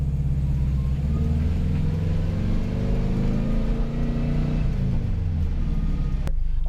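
Turbocharged Subaru Loyale with a WRX wheel accelerating, heard from inside as a steady droning rumble with rising engine tones, easing off near the end with a short click.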